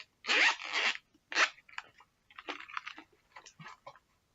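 Zipper on a children's Seaside edition zippered Bible cover being pulled in a few quick, close rasping strokes, followed by softer scattered rustles and clicks of handling.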